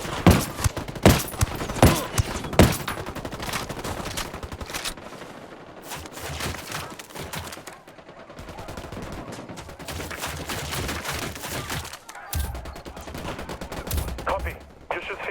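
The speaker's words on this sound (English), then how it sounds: "Opening fire." Bursts of automatic gunfire and sharp rifle shots in a Ghost Recon Wildlands firefight, loud and repeated in clusters with short gaps, mixed with shouted voices.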